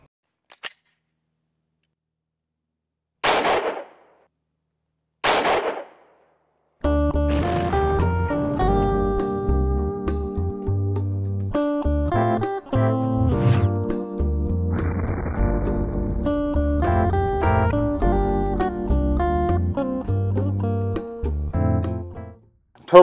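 A Glock Model 20 firing Fiocchi 180 grain 10mm JHP rounds into calibrated 10% ballistic gelatin. Two sharp, loud gunshots ring out a couple of seconds apart, and loud music then takes over for the rest.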